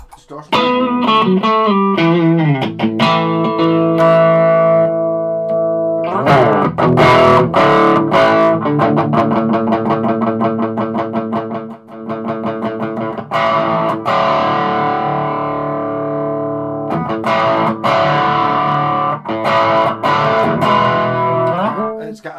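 Electric guitar through the distortion channel of a small Blackstar HT5 tube amp, played loud and near as sustained, saturated chords and riffs with bright, gritty overtones and brief pauses between phrases.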